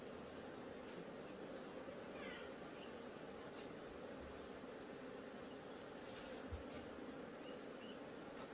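Bees at a beehive give off a dense, continuous buzz that stays even throughout, steady and close, with no other sound standing out above it.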